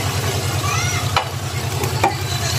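Pinakbet vegetables stirred in a pot with added broth, a close bubbling simmer with soft utensil scrapes and a couple of sharper clinks against the pot.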